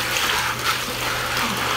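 Water pours steadily in a continuous splashing rush while crushed coral is rinsed for a pond, a close, even flow with no talking.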